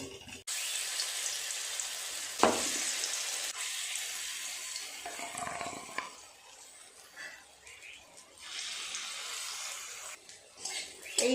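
Rice and lentil fritters fry in oil with a bright, hissing sizzle that swells and fades in uneven bursts, broken by a few sharp clatters and quieter gaps.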